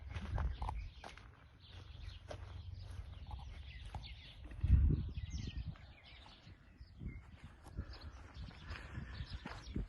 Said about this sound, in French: On entend les oiseaux derrière,